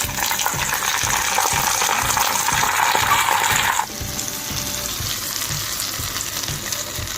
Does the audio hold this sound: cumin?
yes